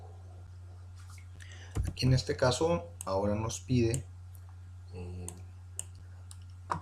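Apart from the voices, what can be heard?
computer mouse clicks during software installation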